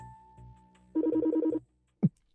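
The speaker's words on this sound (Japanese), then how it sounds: "こんな時に電話。" Phone ringing in the video game Project Sekai: a short electronic ring plays as a clear rapid trilling burst for about half a second, followed by a single sharp blip, alone and close.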